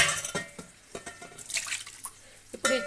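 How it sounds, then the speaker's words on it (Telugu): Masala-spiced water being poured into a pot of chicken curry, short splashing and dripping bursts with light clinks of a pan, fairly close. "నేనైతే ఈ మసాలా రెడీ చేసిన వాటర్ని వేసుకుంటున్నాను."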